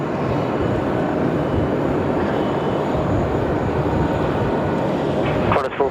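An airliner under tow at Sydney Airport gives a loud, constant roar of engine and tug noise that fills the scene with steady broadband rumble, ending in a short clattering burst.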